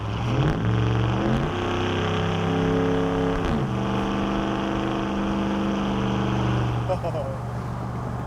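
A Dodge Ram HEMI fitted with Flowmaster dual exhaust accelerates hard, its deep, loud, aggressive engine note rising and shifting through gears continuously, heard close from inside the cab.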